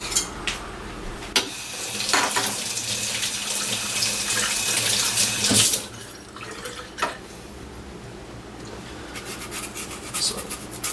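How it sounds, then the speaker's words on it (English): A kitchen tap runs steadily while an apple is rinsed under it, the stream splashing and changing as the fruit moves, then easing to a lighter trickle with a few drips and a clunk. "now we are going to wash off this apple"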